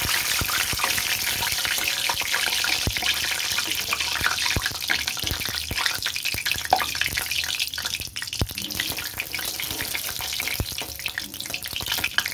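Chillies frying in hot oil in a home kitchen while a Bengali dried-fish dish is made, giving a steady close crackling sizzle with sharp spits and pops throughout, no talking.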